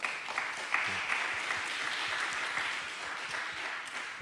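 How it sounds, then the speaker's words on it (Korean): Church congregation during a Korean service claps together in a fairly soft, steady round of applause from a roomful of people, lasting several seconds without speech. "우리 그 청년을 위해서 다시 한번 박수를 한번 보내볼까요?"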